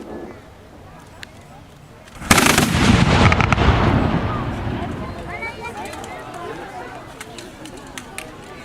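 Black powder firework tubes fire in a single loud, sudden burst, then a roaring crackle trails off over several seconds, with someone talking before and after.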